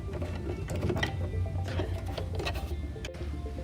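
Sewing machine stitching a fabric mask, a close, fast mechanical whirr and patter with slight bursts and pauses in rhythm throughout.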